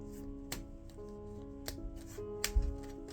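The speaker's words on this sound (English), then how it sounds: "And now we're gonna shuffle together. So I'm gonna drop some cards here, just like that." Playing cards are shuffled together by hand, giving a few sharp riffling snaps spaced about a second apart against a quiet room, close and fairly soft, with no talking.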